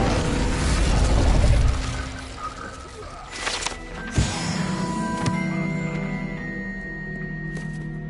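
The Incendio fire spell is cast in Hogwarts Legacy: a loud, low rumbling burst of flame for about two seconds, then fading into softer crackles, clicks and faint tones.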